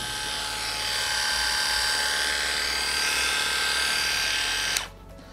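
Single-speed Heiniger electric animal clippers buzz steadily and loudly up close to a microphone with a high whine, then abruptly switch off near the end.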